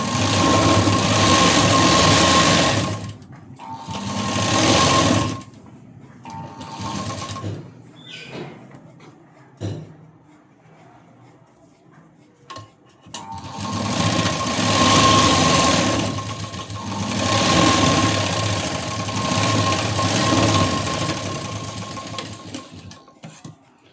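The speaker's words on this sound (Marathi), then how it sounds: "दुसरीकडे सुद्धा शिलाई देऊन घेऊया." A sewing machine stitches a blouse in loud, close runs of whirring, with two long bursts broken by quieter handling noises and short pauses between seams.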